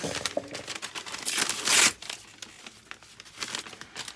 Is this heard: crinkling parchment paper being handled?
yes